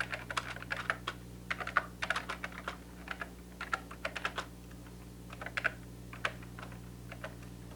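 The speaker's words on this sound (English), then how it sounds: "Once you create it, you can just start typing." Keys clack in quick irregular bursts as someone types text into an Excel 5.0 for Windows chart, close and crisp over a low steady electrical hum, with short pauses between runs of keystrokes.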